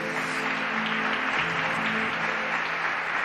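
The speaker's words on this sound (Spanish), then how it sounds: "Dele un aplauso a Dios por eso" Continuous applause from a church youth service congregation, a dense wash of clapping with faint sustained musical tones underneath, steady from start to finish.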